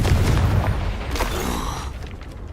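A Confringo blast spell explodes in a Harry Potter video game, a loud, deep rumbling boom that rolls on for a couple of seconds with crackling debris and a brief sharp burst partway through.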